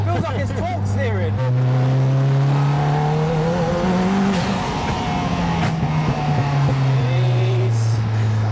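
A 500bhp five-speed Lotus Elise accelerates hard with a loud, close engine drone heard from inside the car. The pitch climbs through the gears and jumps at each shift, and people talk over it.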